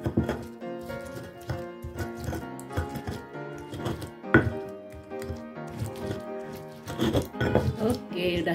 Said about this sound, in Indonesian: Kita ulek dulu cabe dan garamnya. Tomatnya juga kita haluskan ya Bunda.